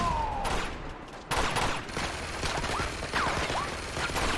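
Machine gun fire in Uncharted 2 at a monastery, a sustained loud barrage of overlapping shots and battle noise with whistling ricochets, continuous throughout.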